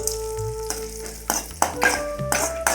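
Ground pepper powder fries with golden cashews in a pan, a close sizzle broken by sharp metallic pings of a spoon stirring against the pan, in a series of bursts with faint speech.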